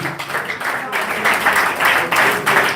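A church congregation in Bafoussam applauds loudly and continuously, a dense patter of many hands clapping with voices mixed in beneath.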